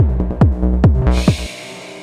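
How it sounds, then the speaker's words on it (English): Modular synth kick drum with a long sustain shaped by a VCA envelope, four deep booming hits in a steady rhythm that each ring out, loud and close, before a hissy noise takes over. "it sounds like this kick drum just has a long sustain or decay or whatever"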